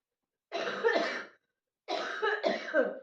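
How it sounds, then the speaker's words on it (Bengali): Two separate bursts of coughing, each a pair of harsh, close coughs with throat-clearing quality, set apart by silence, on a cold day outdoors. "কাশি আছে"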